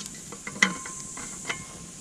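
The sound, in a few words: stirring Spam stew in pot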